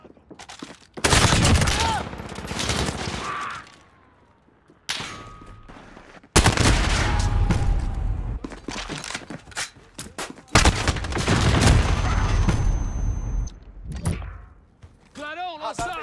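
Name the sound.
gunfire in a multiplayer shooter video game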